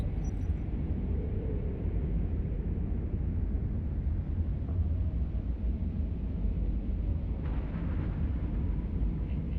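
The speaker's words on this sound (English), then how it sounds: "That's a big explosion." A big explosion in the EVE Online space video game gives a continuous deep rumbling roar that holds steady for several seconds, loud and dense with low-end weight, and no voices come through over it.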